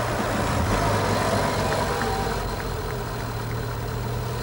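A vintage Hispano Suiza V12 9.5-litre limousine engine runs at a steady low rumbling idle close by, with no speech over it.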